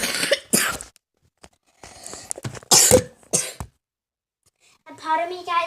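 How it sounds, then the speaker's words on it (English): Several harsh, bad coughs from a child burst out in loud clusters, separated by short pauses, with a brief voiced sound near the end. "pardon me, guys, if I have a super bad cough"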